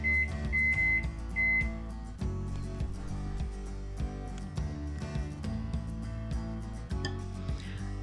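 A kitchen timer set while brewing sweet tea for kombucha gives a few short, high beeps in quick bursts at the start, laid over steady background music.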